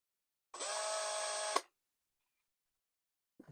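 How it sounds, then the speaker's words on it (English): A power drill spins up in one short, steady, high whir lasting about a second, close and clear, then cuts off into silence. "Let's put this into the drill."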